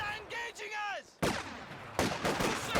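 Machine gun fire in a Company of Heroes 2 1v1 match rattles out in two loud, dense bursts, following a brief stretch of voice at the start.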